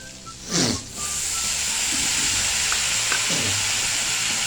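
Chopped medium-size tomatoes hit a hot pan with a sharp burst of sizzling that settles into a steady, close frying hiss, with a light stir or two.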